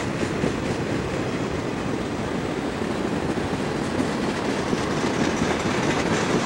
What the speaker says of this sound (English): Pretty long train here.